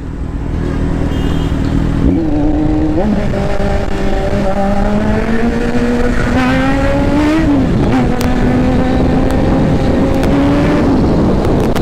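A Kawasaki Z900 SE motorcycle accelerates hard near Kaybiang Tunnel. The engine note is loud and close, rising sharply through the gears in repeated surges with brief dips between shifts, and no voices are heard over it.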